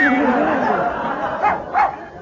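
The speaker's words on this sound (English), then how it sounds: "That darn dog is still here." A dog in a cartoon gives a couple of short, loud barks close by, following a whining, sliding vocal sound at the start.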